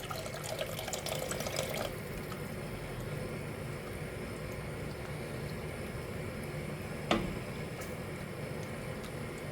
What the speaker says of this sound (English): I've filled the can with water because it gets all the dregs out